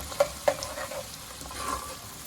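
Ground onion paste hits hot oil for a fish curry, giving two sharp stirring clacks at the start, then a soft, steady sizzle that continues quietly underneath.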